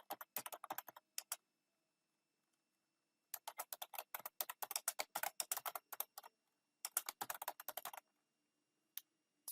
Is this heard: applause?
no